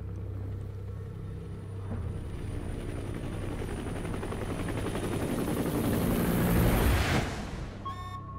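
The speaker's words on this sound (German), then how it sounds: "Das ist unser Helikopter." Helicopter in Metal Gear Solid V: The Phantom Pain: a steady, loud rotor and engine drone that builds to a roaring peak near the end, then cuts off into a short electronic blip.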